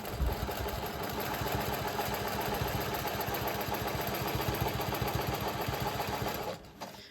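Sewing machine stitching steadily while quilting a Whirlwind block with rulers, a fast even mechanical chatter that runs close and continuous for several seconds, then stops abruptly near the end.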